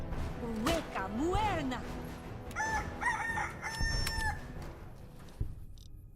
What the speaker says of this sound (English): the screaming chickens